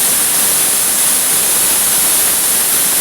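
A pressure cooker hisses steadily while cooking idli and sambar, a loud continuous steam whistle that holds without a break and with no voices.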